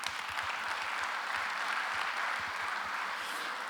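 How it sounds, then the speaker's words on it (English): A conference audience at the CYBERSEC 2017 opening applauds steadily for several seconds, a dense, even wash of many hands clapping with no voices over it. "Please welcome him with a round of applause."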